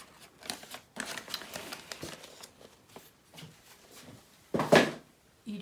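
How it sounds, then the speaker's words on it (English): Scissors snip out collage pieces in a series of short, irregular cuts close by, with quiet pauses between them and a louder burst of rustling paper and snipping near the end. "You cut them all out."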